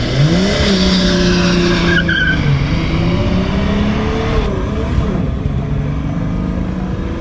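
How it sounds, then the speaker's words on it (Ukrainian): A tuned BMW E28 sedan accelerating hard toward 100 km/h in third gear, engine loud and close, its pitch climbing steadily then dropping at a gear change before rising again, with no talking. "зараз знову будемо заміряти розгін до сотні"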